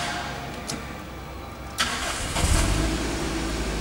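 A Toyota car engine with TCCS electronic control cranks briefly, catches and settles into a steady idle, heard up close with no voices.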